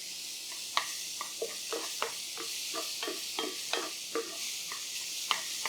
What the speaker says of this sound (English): I want to kind of dry roast them almost.